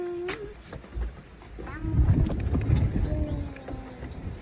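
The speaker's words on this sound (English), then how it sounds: "Real windy outside today." Wind buffets the microphone outdoors in low rumbling gusts, with brief squeaky and tonal sounds and a voice speaking over it.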